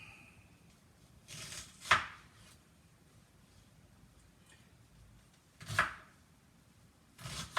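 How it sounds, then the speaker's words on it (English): Knife cuts through onions on a cutting board for cheeseburgers, producing a few sparse, quiet slicing strokes. Each one is a brief crisp knock with a soft scrape, separated by long pauses and faint room noise. "what I'm basically doing now, of course, is like slicing up some onions that I'm gonna saute"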